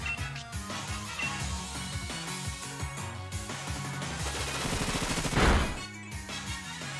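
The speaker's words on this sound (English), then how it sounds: "Bullet Seed, huh?" Bullet Seed attack in the Pokemon Shield video game, a fast burst of rapid repeated popping hits over busy game music, swelling into a loud clustered impact near the end.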